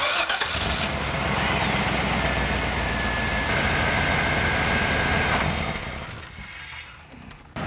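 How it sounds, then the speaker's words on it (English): A short bus engine, just back from a fuel pump circuit repair, cranks and catches, then settles into a loud, steady idle for several seconds before the sound fades down near the end. "as long as it starts up and runs, we'll be good to go"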